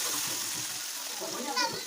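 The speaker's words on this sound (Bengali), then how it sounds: "এখন জল দিয়ে দেবো," Water splashes and sloshes as it is poured into a cooking pan of sautéed potatoes and spices for a vegetarian soybean dish, a steady pour throughout with a brief louder splash near the end.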